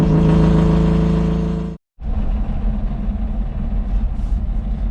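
A Saab Sonett engine holds a steady throttle, a loud droning hum heard from close by, then cuts out abruptly for a moment before resuming as a rougher, noisier whir.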